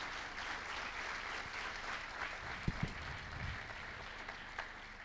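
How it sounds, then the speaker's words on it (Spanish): Faint, steady applause from an audience greeting an archbishop at a diocesan synod presentation, a soft, distant wash of clapping with a couple of brief sharper knocks. "Un aplauso para nuestro arzobispo."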